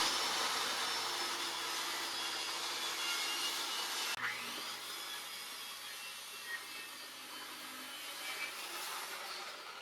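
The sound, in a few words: saw blade cutting pallet wood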